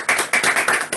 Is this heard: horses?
no